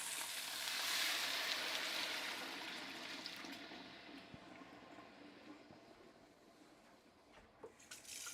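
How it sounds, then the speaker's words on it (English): Water pours into a hot pot of seared meat and bones for pozole, a loud rushing hiss at first that settles into a fading bubbling sizzle with faint clinks, and no talk. "And then we'll add our water."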